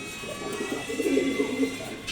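A Maxi Racer pigeon pair coos softly in a loft, low throaty warbling rising and falling over a faint background hum, with the calls bunching together midway through.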